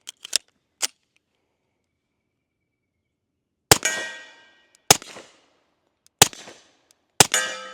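A stainless Sig 1911 X pistol fires outdoors in single sharp shots, a couple of quick pops and then four evenly spaced loud reports, each followed by a short ringing echo tail.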